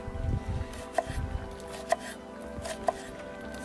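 A knife cuts through food on a hard surface at a beach cooking spot, giving three separate chopping taps at a steady pace, heard close against a low outdoor background.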